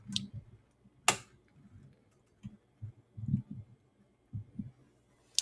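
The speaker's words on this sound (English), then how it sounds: "Let's put some relays in our keyboards. Make them super clicky." Relays built into a mechanical keyboard click in sharp, irregular snaps, some loud and isolated, others softer and clustered, all close-up against quiet.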